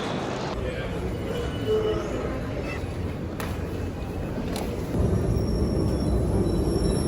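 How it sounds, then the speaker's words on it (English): Interior of a Paris RER overground train running between Gare du Nord and Gare de Lyon, a steady rumbling ride noise with brief metallic squeals and clicks, growing louder toward the end. "Quick 8-minute trip on the Paris equivalent of an overground train"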